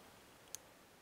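A single faint, sharp click from a pin being set while picking a TESA TK100 lock, with a second even softer tick near the end, in a quiet room.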